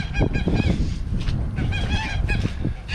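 Several geese honk loudly and repeatedly, close by, their harsh calls overlapping in a busy, continuous chorus with splashing and movement underneath.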